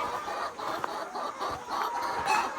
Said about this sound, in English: And so we've got our chickens in here.